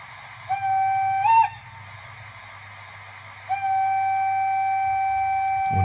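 A model train locomotive sounds its whistle: a short tone, a brief rising blip, then a long steady held tone over a low mechanical hum. The sound is close and fairly loud, with no voices.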